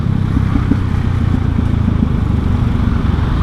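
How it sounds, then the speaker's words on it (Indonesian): Dense afternoon traffic jam in Jakarta rumbles steadily, with car engines idling and motorcycles puttering close by in a continuous low drone. "Sore-sore di Jakarta, wah, macet banget"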